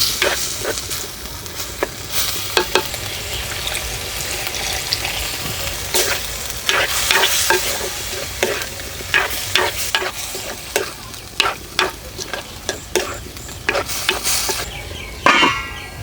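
Chicken with garam masala and coriander powder sizzles steadily in a pan, with repeated sharp scraping stirs of a spoon against the metal across the whole stretch and a louder clatter near the end.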